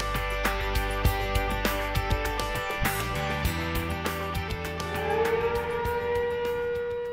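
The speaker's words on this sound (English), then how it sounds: "If the siren sounds," A rising and wavering emergency muster alarm siren wails loudly, mixed with sharp clanging hits and tonal drones, continuing throughout without speech.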